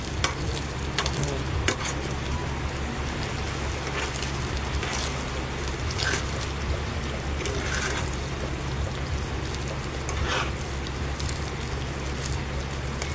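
Fried rice with scrambled egg being mixed in a pan, with a steady, dense sizzle and scraping stirs running throughout and no voices.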